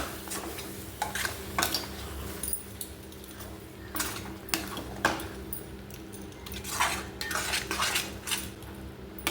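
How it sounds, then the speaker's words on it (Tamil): Salt being stirred into tomato pickle in a metal pan, with repeated scraping and clinking of a spoon against the pan in an uneven rhythm, close and moderately loud with faint background hum. "உப்பு சேர்த்து நல்லா கிளறி விட்டுக்கலாம்"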